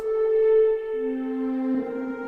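A soft synth string pad swells in, holding a chord then shifting to lower notes, washed in reverb, with no voices.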